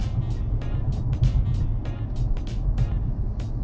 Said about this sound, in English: I'll do one final lift off and let it coast.